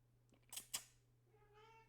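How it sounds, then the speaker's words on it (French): A pet cat named Mimosa meows indoors: faint scratchy clicks, then a clear drawn-out meow rising and falling near the end, close and alone. "Elle me miaule dessus."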